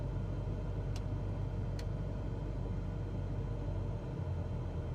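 A small aircraft engine drones low and steady at reduced throttle in Flight Simulator 2024, a continuous rumbling hum with a couple of faint ticks, and no talking.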